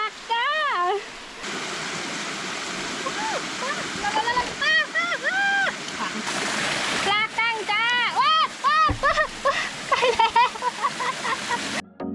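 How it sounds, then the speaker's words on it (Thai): A small waterfall in a mountain forest rushes steadily in the background while someone talks animatedly over it almost throughout. "เป็นน้ำตกเล็กๆ"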